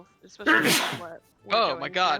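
A single sharp sneeze bursts out near the start between voices, with people chatting casually before and after it.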